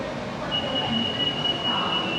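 Bangkok skytrain at a station platform: a steady rumbling train hum with a sustained high-pitched whine running through it, a continuous moderate drone with no speech.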